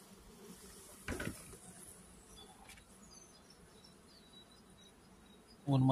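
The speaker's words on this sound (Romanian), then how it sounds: "Îmi dau seama după culoarea lor că sunt albine negre" Black honeybees buzz around an open beehive during a frame inspection, a faint, steady drone of insects close by with a brief louder pass midway and a sharper noise at the end.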